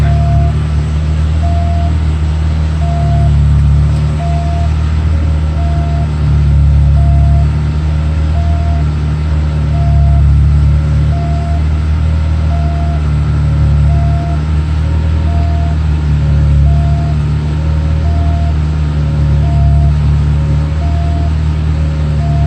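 Unrestored 1981 Volkswagen Scirocco S with CIS Lambda injection idling while its air conditioning runs, a steady close low rumble with a constant blower hum and a faint repeating whine.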